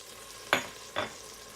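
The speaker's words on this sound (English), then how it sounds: "So we are melting in here a couple tablespoons of butter." Grated onion, a bit over a third of a cup, hits a couple tablespoons of melted butter in a pan, giving two short, close sizzling bursts about half a second apart against a quiet background.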